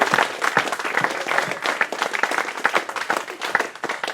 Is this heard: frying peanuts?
no